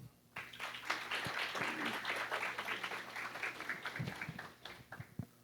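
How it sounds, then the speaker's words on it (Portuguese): An audience at a Brazilian metrology round-table conference gives a round of applause, a dense burst of clapping that swells quickly and holds steady for several seconds before thinning out. "Uma salva de palmas, por gentileza."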